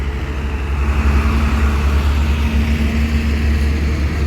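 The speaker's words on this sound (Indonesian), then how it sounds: "Ada bus Legend Marco Polo Sumber Waras" A Marcopolo Legend coach bus of the Sumber Waras line rolls past close by, its engine giving a loud, steady low rumble with a faint whine layered over broad road noise throughout.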